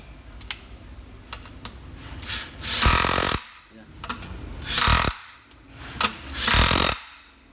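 A Bosch 36V cordless hammer drill runs in hammer mode, giving three loud bursts of about half a second each, separated by pauses with light mechanical clicking and handling noise.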